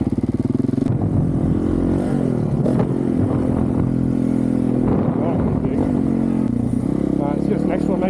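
A 2023 Honda CRF450RL dirt bike engine roars steadily through motocross jumps, the note rising and falling with throttle and gear changes, close and loud throughout with occasional clatter from the track.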